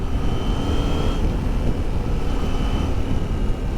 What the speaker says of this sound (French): quand on arrive à partir de 4000 tours, le moteur a un petit sifflement